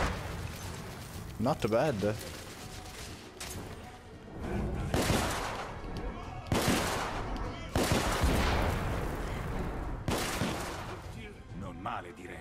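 Explosions and bursts of gunfire in the video game The Order 1886, several heavy booming blasts a couple of seconds apart over rattling shots, with someone talking now and then.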